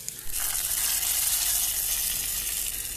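Hot tempering hits a pot of mutton curry with a sudden loud sizzle that jumps in and then holds as a steady bright hiss, with no voice over it.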